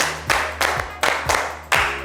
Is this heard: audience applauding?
yes